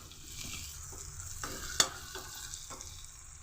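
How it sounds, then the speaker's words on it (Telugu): Onions and vegetables for a mixed curry sizzle steadily in a pan as a spatula stirs and scrapes, with several soft scraping strokes and one sharp metallic clink, close and without speech. "సాల్ట్ వలన ఏంటంటే చాలా త్వరగా ఫ్రై అయిపోయినాయి"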